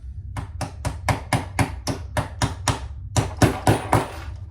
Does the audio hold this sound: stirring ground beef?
no